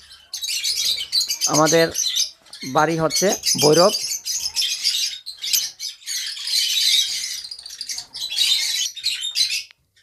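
Lovebirds and cockatiels in cages chirp and squawk continuously at close range, a dense high chatter running under a voice speaking.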